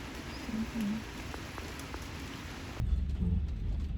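Rain falls steadily as a soft, continuous hiss, with a low rumble underneath that grows a little heavier near the end.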